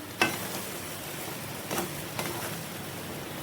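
Coconut masala paste being stirred into hot oil for a spicy goat-head curry, giving a steady soft sizzle with a few brief scraping stirs at intervals, no talking.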